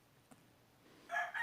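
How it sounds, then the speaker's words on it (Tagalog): A chicken crows close by, a faint short call at first and then a brighter, louder burst near the end, with no talking. "Malakas pa boses ng manok sa akin."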